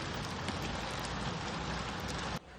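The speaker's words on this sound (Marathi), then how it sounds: "बाहेर बघा कसला पाऊस पडतोय" Steady, dense rain hisses loudly and continuously, then cuts off abruptly near the end.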